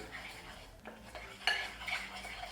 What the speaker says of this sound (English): So I like to stir it up, make sure it's good.